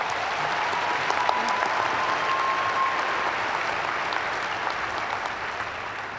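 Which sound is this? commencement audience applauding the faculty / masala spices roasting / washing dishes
commencement audience applauding the faculty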